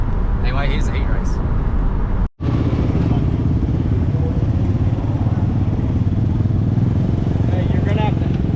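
Race cars roar through a dirt track heat race, a dense, continuous engine din with overlapping revs and a brief dropout early on, while voices talk over the noise.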